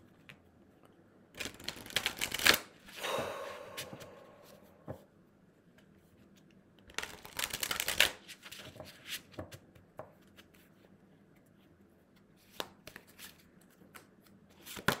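Tarot cards being shuffled and drawn by hand: two short, loud riffling bursts separated by quieter rustling and a few soft card taps, close and without talk.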